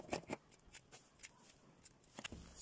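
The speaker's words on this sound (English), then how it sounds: "So let's say I'll cut out a single line from this one" Scissors snipping through craft material for a curved fascinator, a few quiet close crisp cuts in irregular rhythm over faint background hiss.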